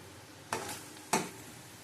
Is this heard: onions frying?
yes